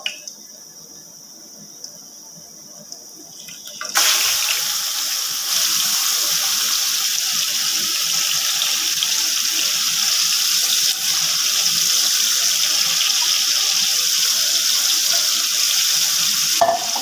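Marinated chicken drops into a pot of frying cumin, and after a quiet start a loud, steady hiss and sizzle takes over and keeps going without a break.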